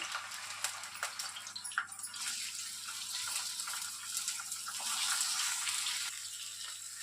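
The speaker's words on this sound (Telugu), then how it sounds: "ఇప్పుడు మనం కట్ చేసి పెట్టుకున్నటువంటి ఈ దొండకాయల్ని ఇందులోనికి వేసేసుకుంటున్నాను" Cut ivy gourd pieces land in hot oil for a spicy Andhra-style stir-fry, giving a close, continuous hissing sizzle that stays fairly even throughout with a few brief crackles near the start.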